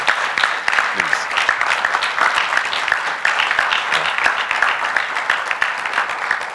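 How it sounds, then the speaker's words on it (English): A business-event audience applauds Chamber of Commerce staff, a sustained wash of clapping with some individual claps standing out and faint voices underneath. "please, ladies and gentlemen, give the ladies a round of applause"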